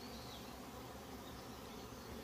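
Honeybees buzz at a beehive entrance in a dense, continuous drone, fairly faint and even throughout, with no voices.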